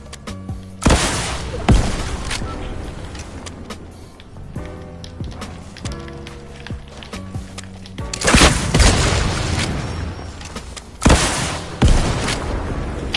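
Rocket launcher blasts in a battle royale video game land as several heavy booms and bursts spread across the stretch, loud and close, with mechanical game sounds and gunfire between them.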